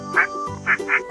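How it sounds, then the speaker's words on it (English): A farm animal puppet toy gives three short, nasal duck quacks in quick succession, close and clear with nothing else underneath. "Duck."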